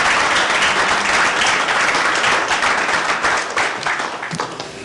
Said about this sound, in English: we should give Daniel Van Patten a round of applause